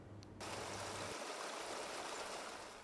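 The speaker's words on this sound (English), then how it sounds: "A little bubbling jet of water quickly turns into a stream, gushing downhill toward the residential areas" A gushing stream of water flowing downhill toward a residential area, a bubbling jet that swells into a steady, loud rush of running water after a brief quieter start.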